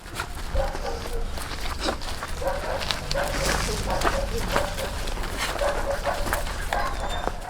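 Several evacuated abandoned dogs from the Donetsk region barking and yipping repeatedly, close by, with someone speaking over them and some footsteps.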